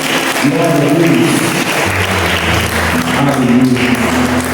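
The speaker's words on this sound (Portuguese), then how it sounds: "Você pode mais uma vez aplaudir ao Senhor?" A church congregation at a family worship service claps together, steady mid-distance applause blended with voices and a sustained musical tone underneath.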